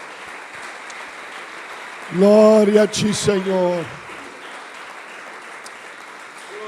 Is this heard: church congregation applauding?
yes